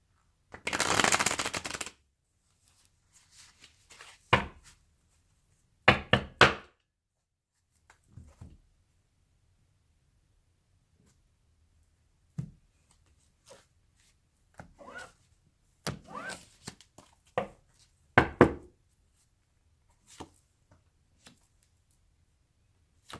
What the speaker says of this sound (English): let me go ahead and cut the cards and we will begin.